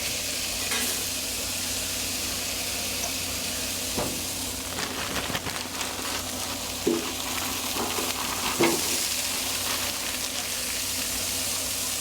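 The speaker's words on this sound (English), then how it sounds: "since our garlic is a little bit on the frozen side, let's go ahead and add that too" Frozen garlic sizzles on a Blackstone griddle beside teriyaki chicken, a steady close hiss of frying with a few soft scraping stirs and taps scattered over it.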